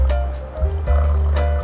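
Water is poured into a homemade sweetened drink, a brief splashing, gurgling fill close by with a couple of separate pours.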